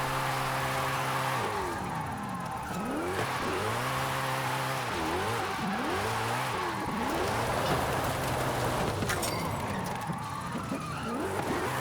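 A car in the racing video game Forza Horizon 5 drifts and revs. The engine note swoops up and down repeatedly as the throttle is worked, with tyre skids and a loud, continuous game soundtrack.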